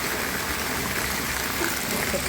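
Torrential rain from a cloudburst rushes in a thick, unbroken wash of noise, loud and near, alone without talk.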